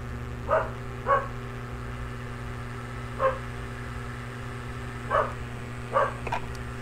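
A dog barks in short pairs and single woofs at a moderate distance, five bursts spread over several seconds against a steady low electrical hum.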